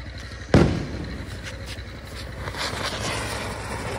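At a Diwali celebration, a lit chakri spinning firework gives a sharp crack followed by a crackling, fizzing burn that continues steadily for several seconds.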